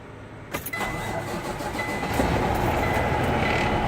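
A truck engine cranks and catches after a short pause, then settles into a loud, steady rumble that keeps running close by.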